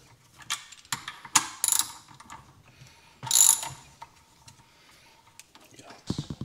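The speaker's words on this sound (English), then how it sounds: "Now he's taking off the remaining screws" Hand tool clicking as screws are backed out of the motor on a Begode Hero electric unicycle, with scattered ratchet-like ticks and a couple of louder bursts of mechanical rattling, close and fairly quiet, with faint voices in the background.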